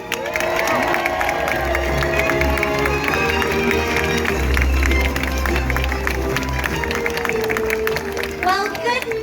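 A large crowd at a Walt Disney World Animal Kingdom anniversary celebration cheers and applauds steadily for ambassadors, with shouts and whistles over a dense, continuous roar and music playing underneath.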